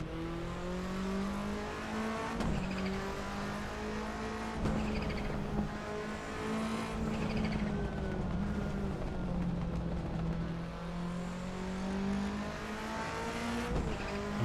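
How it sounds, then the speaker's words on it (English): Rally car in the Assetto Corsa racing game, engine revving up and dropping repeatedly through gear shifts, with brief tire squeals and bumps, loud and continuous. "I mean, this just sounds like a proper rally car."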